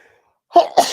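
A single sharp sneeze, close and loud, in two quick bursts after a brief quiet moment.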